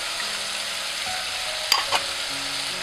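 Tomatoes with lady's thumb, mint and cilantro cook in a pan, giving a steady, low sizzle under two brief clinks of a utensil.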